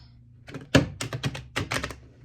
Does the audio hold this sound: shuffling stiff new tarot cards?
yes